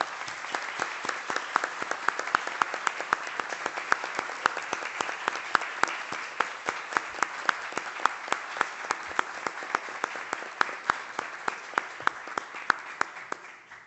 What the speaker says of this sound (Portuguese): palmas para o Hermes, porque sem ele isso não aconteceria.